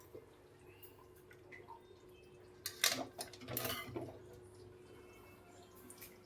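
Raw rice tipped into a pot of boiling, seasoned water for seeraga samba mutton biryani, giving a short cluster of clinking, scraping and splashing knocks in the middle over a low steady bubbling hum.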